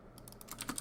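Fingers type on a computer keyboard, a quick run of light, crisp key clicks, close and quiet, with no voices.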